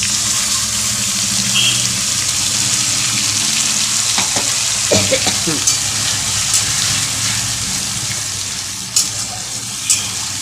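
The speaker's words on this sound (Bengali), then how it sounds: "পেঁয়াজ মশলাটা ভালো করে কষিয়ে নেব" A paste of onion, ginger, green chilli and garlic sizzles in a pan under steady frying noise, with occasional scraping stirs and clinks.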